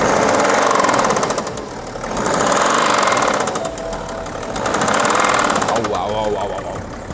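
A VW T5 van engine runs with a heavy, rapid metallic knock from a suspected failing connecting rod bearing, loud and close, its clatter rising and falling in waves as the engine is revved, with voices in the background.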